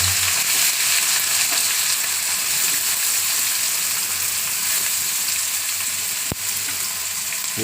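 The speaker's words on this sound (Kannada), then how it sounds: "ಎರಡು ಸ್ವಲ್ಪ ಲೈಟಾಗಿ ಫ್ರೈ ಆಗೋ ಥರ ಮಾಡ್ಕೊಳ್ಳೋಣ ನೋಡಿ ಈರುಳ್ಳಿ ಇಷ್ಟು ಫ್ರೈ ಮಾಡಿಕೊಂಡ್ರೆ ಸಾಕು" Onion and green chillies frying in hot oil in a pan, a loud, close, steady sizzle with occasional stirring scrapes and one sharp knock near the end.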